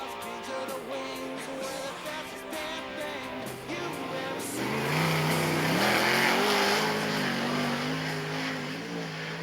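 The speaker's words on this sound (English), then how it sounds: "First car on the racetrack, American Jonathan Allard in the 4X bidder." Sprint cars race around Charlton Raceway during a World Series Sprintcars meeting, engines snarling and rising in pitch as a car accelerates on the track, loud and sustained with a roaring crowd-like wash behind it.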